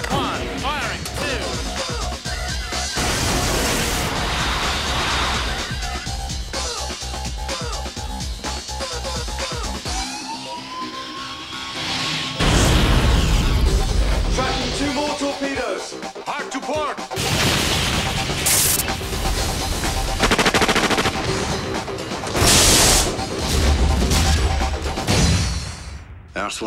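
Starfighter weapons fire and explosions from the Wing Commander space combat game, with dense bursts of blasts, booms and crashes layered over dramatic music and voices talking throughout.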